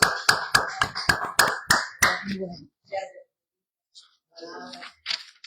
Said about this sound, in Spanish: Le damos un aplauso, somos poquitos